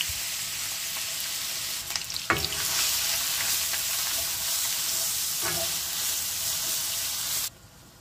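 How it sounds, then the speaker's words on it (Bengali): Grated onion sizzles steadily in hot oil in a pan for several seconds, with a couple of sharper stirring scrapes, then the frying noise drops away abruptly near the end. "তেল গরম হয়েছে, আমি 1 কাপ গ্রেট করা অনিয়ন দিয়ার, পেঁয়াজ দিয়ার 1 কাপ।"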